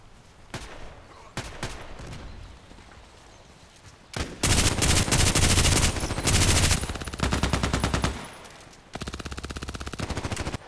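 An RPKT tactical machine gun fires in the shooter game Contract Wars: a few isolated shots, then long, loud, rapid automatic bursts separated by short pauses, with no voices.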